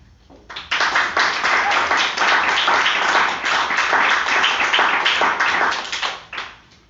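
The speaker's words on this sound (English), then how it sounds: "God, clapping." An audience claps at a live spoken word night in a Chorlton, Manchester venue, a dense burst of applause that swells in quickly, holds loud and steady for several seconds, then tapers off.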